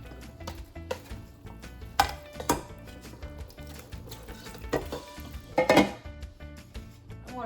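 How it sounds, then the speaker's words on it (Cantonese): Lamb brisket being stir-fried in a pan, with repeated scraping and clattering of a utensil against the pan over a low sizzle, several sharper knocks standing out. "將佢炒勻。"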